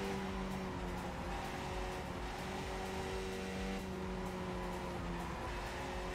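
Racing car engines drone and rev steadily in a PC video game, a dense continuous whine with shifting pitch as cars run in a pack, loud and unbroken with no talking.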